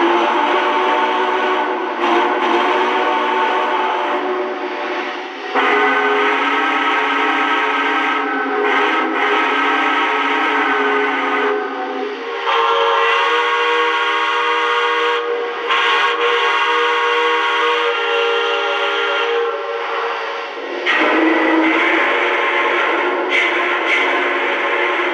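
Several alternate steam whistle tones from a Lionel Vision Line Santa Fe 2-10-10-2 model train play in turn, each a loud, sustained chime of a few seconds separated by short gaps, close and with no voices.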